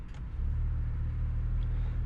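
A 2020 Porsche Macan S idles with its exhaust valves open, producing a steady deep, close rumble with no voices.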